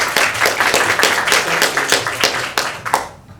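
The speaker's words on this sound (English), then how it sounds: "Please give a big round of applause to Sanoopkumar." An audience at a corporate agile talk bursts into dense, close applause, many hands clapping steadily before it tapers off quickly at the end.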